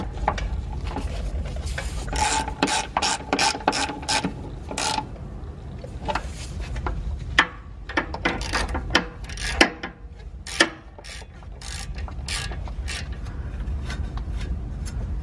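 Ratchet tightening the last of twelve bolts on a 2011-2013 Hyundai Sonata Hybrid during ABS wheel speed sensor work, heard as bursts of rapid clicking and rasping, with several quick runs, close and moderately loud, no talking.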